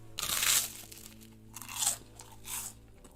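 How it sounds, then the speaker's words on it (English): Very crunchy foods such as chicken wings and toast being eaten close to a high-quality microphone, giving three loud, crisp crunching bites separated by short pauses, with no talking. "eating very crunchy, albeit relatively cheap foods like chicken wings and toast"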